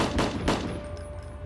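Gunfire from the video game Europe Front Remastered: a few sharp, loud shots at the start, then a dense rattle of weapon fire fading under a steady hum, with no talking.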